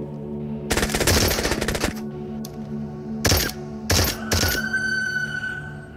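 A Glock pistol fired in the game Into the Radius, with a rapid burst of shots followed by several separate volleys that are loud and close, plus faint mechanical clinks between them.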